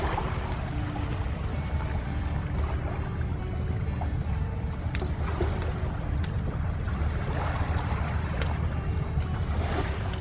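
A boat approaches near Koh Rong Samloem island, its engine rumbling steadily under strong wind and water noise that continue without a break, with no talking.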